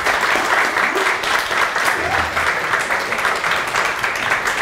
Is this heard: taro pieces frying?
no